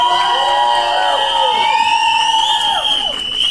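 An audience cheers and whistles at a Hindi film trailer launch event, with shrill rising and falling whistles cutting over a steady, loud crowd roar throughout.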